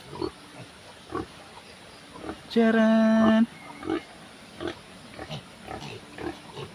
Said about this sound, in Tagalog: tingnan natin yung baboy